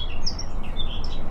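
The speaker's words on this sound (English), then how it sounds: "I just listen to the birds and that's beautiful." Birds chirp and call in the morning beside a fishing lake, several high tweets scattered over steady wind and low outdoor rumble.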